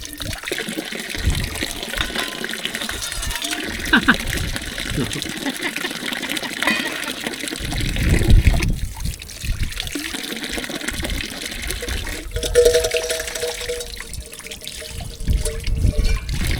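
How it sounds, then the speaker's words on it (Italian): Water running outdoors as plates are rinsed under a tap or spout during a countryside hike near old villages, a steady trickle and splash with brief louder gushes, people talking over it. "Abbiamo l'occasione qua che abbiamo l'acqua e gli diamo una sciacquata ai piatti"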